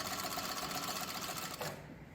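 A Kinedyne HM 750L leather sewing machine with a servo motor runs in a fast, even mechanical whir, then stops abruptly near the end, with no voices.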